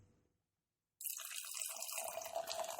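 A six-month-old 13% dark beer is poured into a glass, a steady splashing, fizzing stream that starts abruptly after a brief silence and continues to the end.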